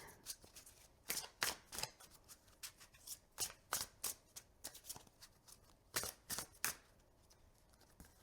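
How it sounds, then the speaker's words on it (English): Tarot cards being shuffled by hand in a quiet room, a run of crisp riffling bursts and slaps repeating irregularly, close and fairly soft, with no talk over them. "Let's keep shuffling."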